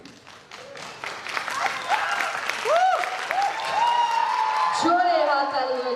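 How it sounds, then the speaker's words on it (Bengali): An audience applauds after a performance at a stage dance competition in Nabadwip, a steady wash of clapping running beneath a loud amplified voice that talks over it throughout. "জোরে হাততালি হয়ে যাক ফিল দ্য বিট সিনিয়রের জন্য"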